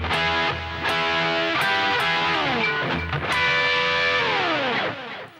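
Distorted electric guitar plays a phrase from a solo: loud, close double-stop bends and slides, several picked notes gliding up and down in pitch, ending as the last note fades.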